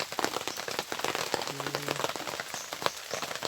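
Steady light rain patters on a campsite tent, a dense crackle of small drops throughout with no voices.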